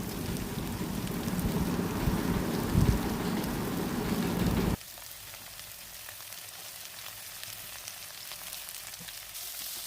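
Vegetables fry in hot oil in a wok with a dense, loud crackling sizzle that drops sharply halfway through to a softer, quieter hiss.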